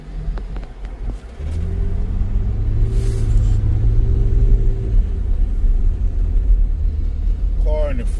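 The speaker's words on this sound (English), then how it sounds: "Stuck on the freeway, traffic." Low engine rumble and road noise inside a car stuck in slow Los Angeles freeway traffic, rising as the vehicle moves, with someone talking over it.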